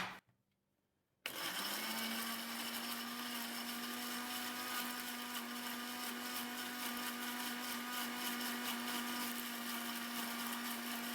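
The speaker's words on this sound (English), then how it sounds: "Now I'll have to blend it." An electric blender whirs steadily while blending tomatoes for a facial, starting abruptly after a brief quiet moment and running loud and continuous with a constant motor hum.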